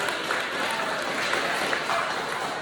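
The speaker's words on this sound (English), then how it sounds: "can y'all give her a hand clap as well?" An audience applauds steadily at a Buckeye Middle School YMOE program ceremony in Columbus, with dense, continuous clapping filling the hall throughout.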